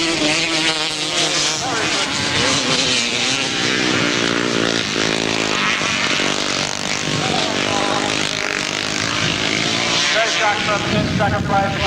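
Grasstrack racing motorcycles roar down the back straight in a 1992 race, their engines loud and continuous with shifting revs, while a commentator talks over them throughout.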